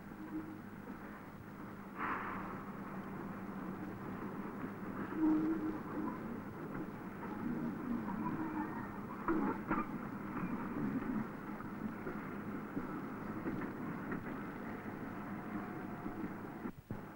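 Railway wagons being shunted in a 1950s South Wales automatic hump marshalling yard, a continuous low rumble of rolling stock with occasional clanks and squeals, heard at moderate distance without talk.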